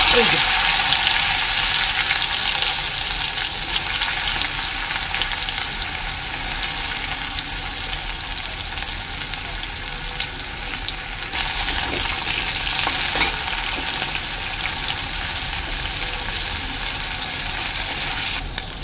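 Hot oil sizzling steadily in a kadhai while shukto dal is cooked in a home kitchen, a continuous loud frying hiss with occasional stirring clatter and no talk.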